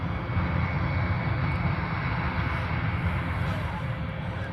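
Steady, loud aircraft engine drone of a cargo plane taxiing at the far end of a cargo ramp at Honolulu airport, a continuous low rumble with no voices over it.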